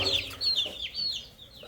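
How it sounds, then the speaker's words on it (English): Clucking from a farm hen, several short, bright clucks and squawks in quick succession, close and moderately loud over quiet background. "That's a hen."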